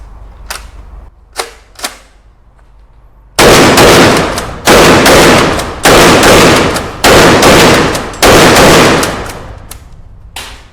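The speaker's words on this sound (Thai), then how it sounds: "ก็จบไปแล้วนะครับสำหรับการทดสอบยิงเจ้า Hunt Group MH12 นะฮะ" Hunt Group MH12 twin-tube pump shotgun fired from the hip at a range, a few sharp distant-sounding cracks first, then a run of loud, closely spaced booming shots with brief gaps between bursts.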